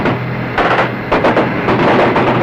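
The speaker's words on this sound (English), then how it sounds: "Return fire from the riverbank indicates a larger force supporting the crossing." Gunfire on a Vietnam War river patrol, a loud, dense roar of overlapping bursts with repeated sharp shots throughout.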